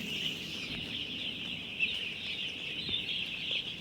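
Chickens on a poultry farm cluck softly and continuously against a steady background hum, with occasional sharper calls; fairly faint and distant.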